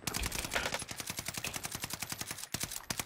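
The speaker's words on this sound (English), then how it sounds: "They're shooting me" Rapid automatic gunfire in the Call of Duty Vanguard multiplayer match on the Fortune's Keep map, an even stream of sharp clattering shots with one brief break near the end, fairly quiet and with no voices.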